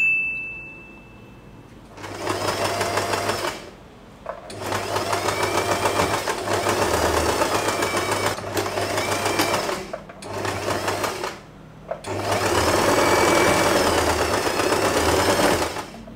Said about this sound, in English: And we are going to sew this part.